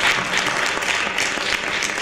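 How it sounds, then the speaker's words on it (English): A church congregation in Milton Keynes applauds to welcome a woman pastor, brief steady clapping from many hands lasting about two seconds. "we welcome her, please, with a round of applause"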